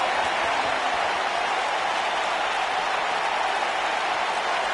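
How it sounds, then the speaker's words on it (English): Dense, steady applause and crowd noise from an arena audience in the WWE 2K19 wrestling game, a continuous wash of clapping with no breaks and no commentary over it. "the crowd is loving Sasha's act"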